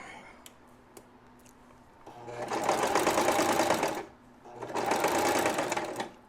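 A sewing machine runs in two steady bursts of rapid mechanical stitching through gripper fabric, separated by a short pause, with quiet handling sounds before it starts.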